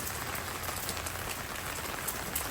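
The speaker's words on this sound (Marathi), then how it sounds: "खूप जास्त पावसाचा आवाज येत असेल कारण की या टेंटवरती ना पाणी पडतंय टपटप" Heavy rain falls on a tent roof in a steady, dense patter of drops, loud and continuous throughout with no pauses.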